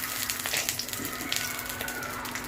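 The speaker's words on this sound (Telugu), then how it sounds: "తర్వాత కాజు ఫ్రై చేస్తాం." Cashews frying in ghee in a pan for dry fruits burfi make a steady, close sizzling hiss with small crackling pops throughout.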